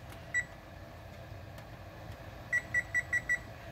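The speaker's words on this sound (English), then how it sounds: "and then I set my timer" A kitchen timer is set on a stovetop, giving one short electronic beep, then a quick run of five clipped beeps a couple of seconds later, over a low steady room hum with no talking.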